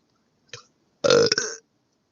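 A short throat-clearing click is followed by one loud, close, gurgling burp lasting about half a second, then a brief tail, with silence around it.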